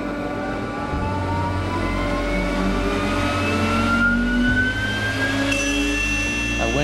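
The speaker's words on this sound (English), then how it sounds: "listen to the CNC starting up" A CNC machine in a home woodworking shop spins up, its motor whine climbing steadily in pitch over a constant loud mechanical hum, with no voices.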